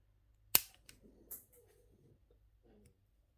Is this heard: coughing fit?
no